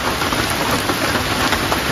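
Heavy rain pours down steadily on a goat farm during the rainy season, a dense, continuous hiss of water on surfaces with no pauses, loud and close throughout.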